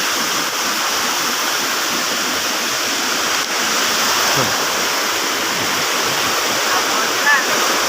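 A flooding, dirty river rushes loudly and continuously, a dense broad roar of fast-flowing water that stays constant throughout.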